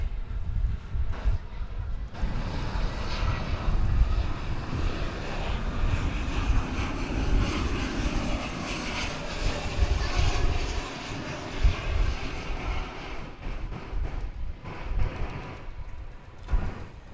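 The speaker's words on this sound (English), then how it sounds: "here comes a flight from Las Vegas" An Airbus A320neo arriving from Las Vegas at Dallas Fort Worth airport produces a continuous loud jet engine roar that swells and lingers, with a faint voice occasionally underneath.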